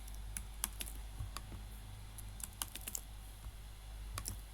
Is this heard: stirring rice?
no